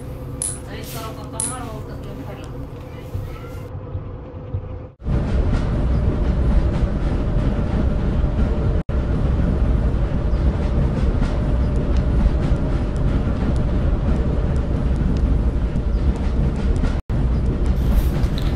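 A train riding along in a mobile video game, a steady loud rumbling rolling noise with faint clinks, preceded by a few seconds of quieter game sounds and brief tones.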